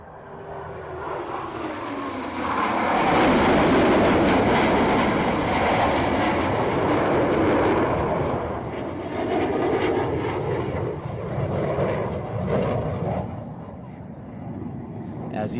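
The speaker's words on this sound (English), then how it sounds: "As each aircraft accelerates to 500 miles per hour, they will perform a reversal turn back towards the flight line." Jet aircraft from a four-ship diamond formation at an air show break apart and accelerate, a loud sustained roar that swells and slowly fades, with a public-address narrator speaking over it throughout.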